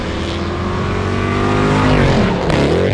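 Mercedes C63 507 Edition with its 6.2 V8 revving: a continuous, loud, close engine roar whose pitch swells and shifts over three seconds, no talk.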